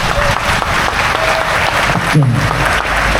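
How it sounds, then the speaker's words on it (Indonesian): At an Indonesian stand-up comedy show, the crowd bursts into loud, steady clapping close by, with a brief spoken word from a voice partway through. "Yang hadir hari ini, yang bangga jadi orang Indonesia, coba tepuk tangan"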